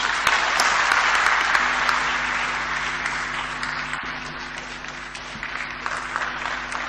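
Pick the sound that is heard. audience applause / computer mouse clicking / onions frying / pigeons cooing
audience applause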